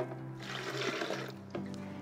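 Water pours into a high-speed blender holding cashews, a soft continuous splashing and gurgling over about two seconds, close and fairly quiet.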